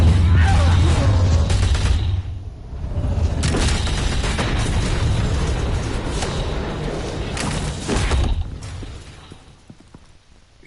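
Gunfire and explosions from the Telltale Batman video game, a loud, dense stretch of booming blasts and rattling shots that keeps going for about eight seconds before it fades.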